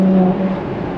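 Ferrari F12 TDF V12 engine droning from inside the cabin while driving, a loud steady tone that holds, then eases slightly as the revs settle.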